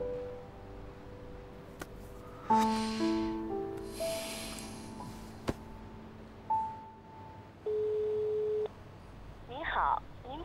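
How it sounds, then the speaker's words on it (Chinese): A telephone busy tone sounds as a flat, steady electronic beep held for about a second, set among other synthetic tones and a recorded voice announcing the line is engaged. "您好，您拨打的电话正在通话中。"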